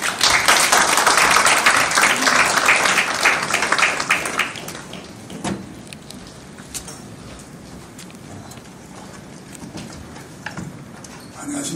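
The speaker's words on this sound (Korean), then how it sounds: "여러분 단상으로 뜨거운 박수로 모시겠습니다." Warm audience clapping greets a pastor as he comes to the stage at a Korean certificate ceremony honoring the April 19 Revolution records, loud and dense for about four seconds, then dropping to scattered claps and shuffling room noise.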